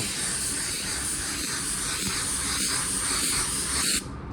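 Spray gun laying a first clear coat over a car paint blend, a steady close hiss of atomised clear held continuously for about four seconds, then cutting off sharply.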